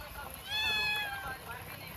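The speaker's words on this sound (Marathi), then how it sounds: "मांजर आलेली आहे. मी जेवायच्या वेळेस रोज येते मांजर." A cat at mealtime beside a family meal at a farm home, giving one clear, drawn-out meow in the middle of the clip amid faint room sound and quiet voices.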